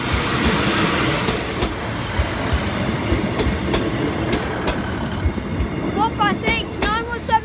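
Class 156 diesel unit 156 917 approaching a level crossing at Sleaford East, its rumbling engine and wheel clatter loud and close, with brief squeals near the end.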